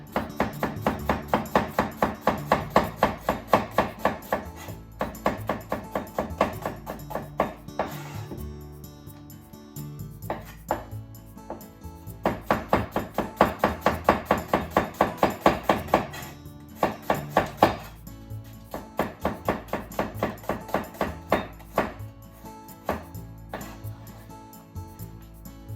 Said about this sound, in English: Onion, cut the top and the bottom off. Peel the skin, cut into half